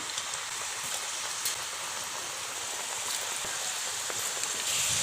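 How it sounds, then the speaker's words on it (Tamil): Pakoda fritters fry in hot oil on a gas stove, a steady, soft crackling sizzle like light rain that continues without a break. "இப்போ நம்ம பக்கோடை போட ஆரம்பிச்சிடலாம்"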